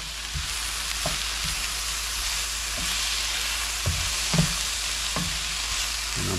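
Butter sizzles and fries in a pan with snow peas, a steady close crackling hiss broken by a few soft knocks of stirring, no voices.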